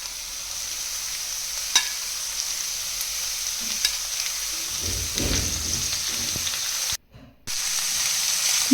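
Chopped cabbage for a momo filling frizzles steadily in a hot pan, with a few spatula knocks and a louder stirring rustle midway. The sound cuts out briefly near the end and then returns. No talking.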